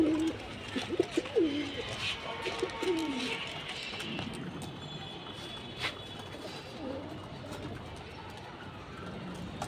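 Lakkha (fantail) pigeons in a rooftop loft give soft, low cooing calls, clearest in the first few seconds, over a steady busy background with other faint birds.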